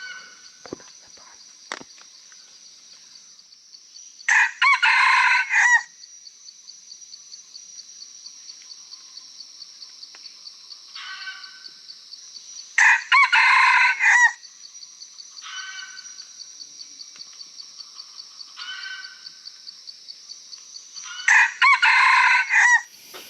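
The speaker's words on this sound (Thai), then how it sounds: "เห็นไก่ป่านะ" Red junglefowl crowing in a forest, three loud crows spaced about eight seconds apart, with a steady chorus of crickets or insects droning throughout and a few faint clucks between.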